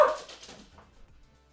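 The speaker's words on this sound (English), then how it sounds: "The dogs are barking." Dogs barking indoors, a short burst of barks right at the start that quickly fades into quieter, scattered yips.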